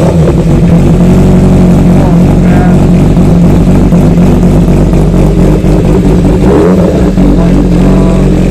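Loud Honda CBR1000RR Fireblade superbike engine turning over and revving on a street in Ludhiana, a dense continuous roar with surges in throttle, heard close up throughout.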